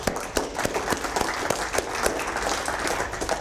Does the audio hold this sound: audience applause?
yes